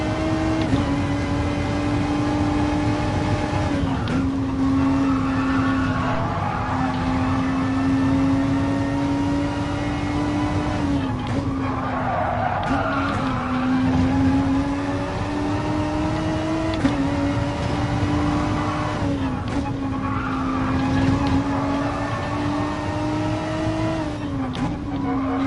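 Race car engine in the GT Sport video game droning steadily at high revs through an FIA GTC Nations Cup race, pitch rising and dipping with gear shifts and corners, with no talk over it.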